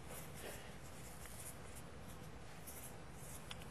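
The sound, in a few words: pen writing a prediction on the back of a roulette card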